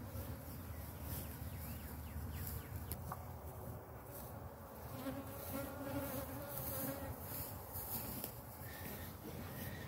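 Honeybees buzzing at a hive, a faint, steady swarm drone that fills the air with no one speaking.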